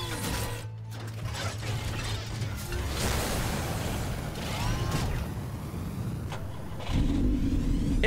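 A car engine in Batman: The Telltale Series hums steadily at moderate distance, with mechanical whirring and a louder surge of revving near the end.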